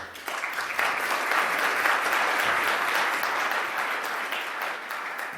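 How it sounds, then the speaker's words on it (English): An audience at a financial inclusion summit applauds its opening speaker with sustained, loud, even clapping that fills the room throughout. "big round of applause, Dame Jane Ann Gardier."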